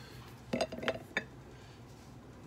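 Two-piece metal lid fitted onto a glass jar of cherry jam during canning, a quick cluster of three light metallic clinks and taps, close by and quiet, followed by stillness.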